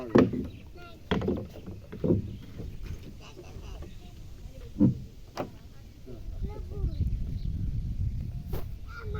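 A boat crosses a river, carrying people with a bicycle. Water and hull knocks come with several sharp thumps, while people talk close by.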